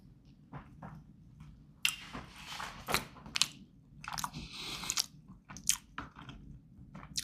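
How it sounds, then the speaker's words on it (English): Close crunchy bites and wet chewing of an MRE Southwest beef and black beans meal, a run of irregular munching sounds over faint background hum, with no talking. "I'm going to take a bite."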